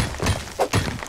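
Explosions going off during a base raid in the survival game Rust, several dull booming thuds in quick succession, moderately loud and close.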